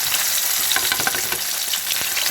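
Corned beef torta frying steadily in a pan, a dense, continuous sizzle and crackle with small pops, close and loud, no voices.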